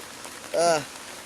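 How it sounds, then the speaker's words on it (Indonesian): Steady rain hisses down outdoors during a fishing trip at a pond in Tangerang, a soft even patter running throughout, with a brief voice rising over it midway. "Hujan, kita akhir aja perburuannya."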